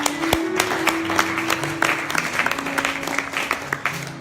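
A church congregation breaks into steady applause, a dense patter of many hands clapping at close to middle distance, with a faint sustained organ or keyboard tone beneath it.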